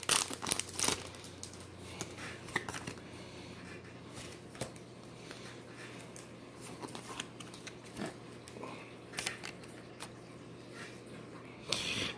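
Foil wrappers of Pokémon Sword and Shield and Darkness Ablaze booster packs crinkling as they are torn open, in short close bursts at the start and end with quieter handling rustles between.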